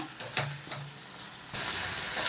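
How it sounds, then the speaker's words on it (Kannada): Fenugreek leaves fry in a pan for chicken biryani. A few sharp stirring taps come first, then the sizzle jumps to a louder, dense hiss that carries on steadily to the end. "ನೋಡಿ, ಮೆಂತ್ಯ ಸ್ವಲ್ಪ ಫ್ರೈ ಆಗಿದೆ"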